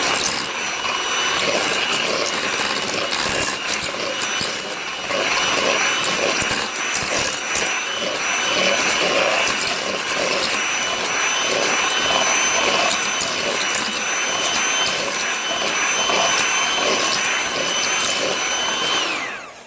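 An electric mixer whirs steadily as it blends a carrot souffle batter in a home kitchen, a loud continuous motor drone with a high whine that runs unbroken for about twenty seconds, then cuts off at the end.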